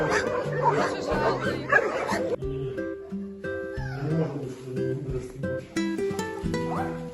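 Dog barking at an animal shelter in Hostomel, sharp repeated barks and yips close by, mixed with laughter and people talking over them.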